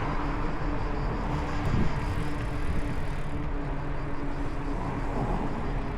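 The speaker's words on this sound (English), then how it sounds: "the sound of traffic just ahead" Street traffic in the Turkish seaside city of Ordu, a steady moderate wash of passing vehicles and road noise from a short distance, even and continuous with no talking.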